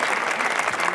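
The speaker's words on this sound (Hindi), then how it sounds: "एक बार ताली बजा करके आदेशित कीजिए" Listeners at a kavi sammelan poetry gathering in Rohtak break into loud, thick applause, a continuous close wash of many hands clapping without a break.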